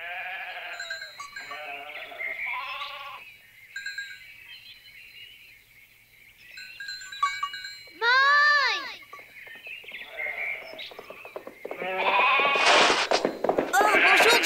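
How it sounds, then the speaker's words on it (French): Cartoon sheep bleat on a mountain in repeated wavering calls, mixed with animated character voices, music and effects. "Je garde les brebis à la place de Pedro et Paco"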